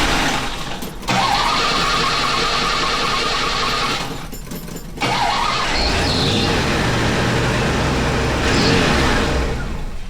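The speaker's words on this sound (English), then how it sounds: "Let's see if this car will start under its own power now." An engine cranks and catches, then roars loudly and revs, with a brief lull and another surge of revving close by.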